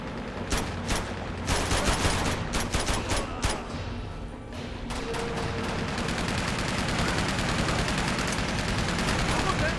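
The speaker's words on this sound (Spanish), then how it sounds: "Hay una ametralladora ahí arriba" Rapid automatic gunfire from a machine gun in the game Uncharted 2, with dense bursts and sharp shots at close range. The firing is loud and sustained, and a voice talks over it at times.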